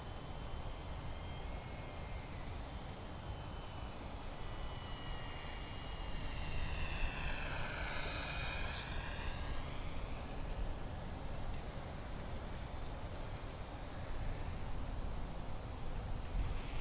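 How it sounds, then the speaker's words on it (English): An E-Flite UMX P-51D Mustang radio-controlled model plane makes low touch-and-go passes, its small electric motor whining steadily and swelling in pitch as it sweeps past mid-clip over constant outdoor wind noise. "With the gear on, I love to do touch and goes and one-wheelers with this plane."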